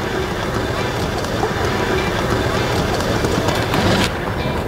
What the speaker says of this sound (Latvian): Nu tā, vilciens ir pienācis.